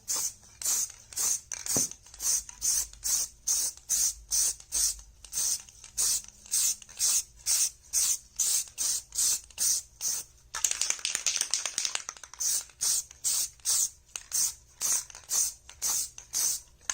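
Rapid bursts of spray primer hiss onto plastic armor in a steady rhythm of short puffs, with one longer continuous spray partway through, close and fairly loud with no talking.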